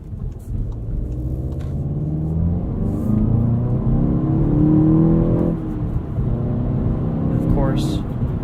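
A 2016 Volkswagen GTI SE with a 2-liter turbo engine and six-speed manual, its engine droning steadily from inside the car and climbing in pitch as it pulls, then easing off.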